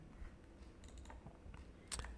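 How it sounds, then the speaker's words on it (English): Computer keyboard keys pressed on a PC, a handful of quiet, close clicks spaced irregularly, ending with one sharper key press. "I press the print screen button on the keyboard"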